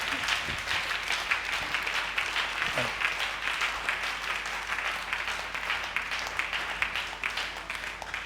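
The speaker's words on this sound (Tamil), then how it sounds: "கைத்தட்டுங்க பார்க்கலாம்." A church congregation claps together in a sustained, dense wash of applause at a Sunday service, with voices mixed in underneath.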